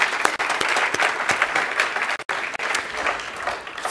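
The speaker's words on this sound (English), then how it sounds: "Let's give them a round of applause for putting on such a wonderful conference." A crowd applauds steadily at the close of the NewSpace 2016 conference, dense clapping filling the room with a brief break midway before resuming.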